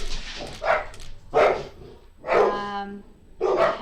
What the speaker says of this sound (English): and my dogs are barking.